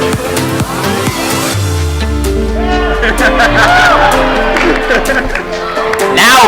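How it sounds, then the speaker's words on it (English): A convention panel audience at BronyCon letting out drawn-out, rising whoops in the middle of a loud, busy room, with voices and background music running throughout. "Everyone go woo when they see something they like."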